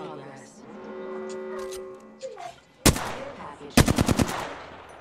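Gunfire in Apex Legends comes as a sharp single shot followed by a rapid automatic burst of several close, loud cracks, after a low drawn-out voice and game sounds.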